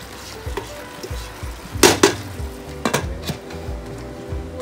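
A spoon stirs chicken tinola soup in a metal pot, with a few close scraping and clinking strokes against the pot over a soft simmering background, and no talking.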